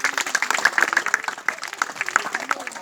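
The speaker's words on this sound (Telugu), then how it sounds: "మీ చప్పట్లు కొడుతూ ఉంటారు." A crowd claps steadily at a school function during a lamp-lighting ceremony with the village sarpanch, the dense clapping continuous and fairly close throughout.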